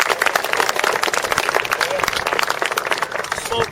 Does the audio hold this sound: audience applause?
yes